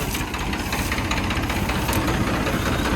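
A tractor engine runs steadily at full throttle, a loud, continuous low rumble with a knocking, vibrating texture and no pauses or talk.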